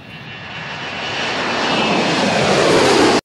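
A loud fixed-wing airplane engine roar, played as a sound effect in a ninth-grade school play, swells steadily over about three seconds and then cuts off abruptly.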